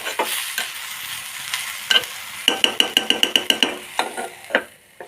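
A spoon scrapes and stirs drumstick leaf (moringa) curry with salt in a clay pot, a string of quick, close scraping clicks over a soft background sizzle, with no talking.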